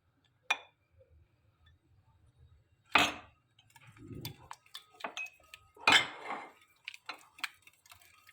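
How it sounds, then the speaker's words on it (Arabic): Hand whisk beating cake batter with milk and oil in a bowl, giving a few separate clinking, scraping bursts of metal against the dish with quiet gaps between them, close and fairly soft, with no talking. "وهنستمر في الضرب زي ما انتم شايفين معانا كده"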